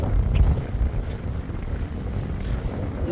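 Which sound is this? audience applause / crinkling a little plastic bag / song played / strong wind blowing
strong wind blowing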